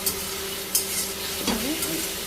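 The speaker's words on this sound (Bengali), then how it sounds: "তারপরে এইভাবে একটু নাড়িয়ে দেবো" A spoon stirs salted, turmeric-spiced fish curry, a small-fish sour curry with elephant apple, in a pan, with a steady low sizzle and a brief scrape partway through.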